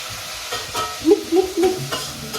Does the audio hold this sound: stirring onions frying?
yes